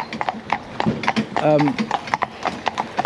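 Horses walk along a road, hooves clip-clopping in a steady, close rhythm while a person talks over them and a horse gives a short whinny midway.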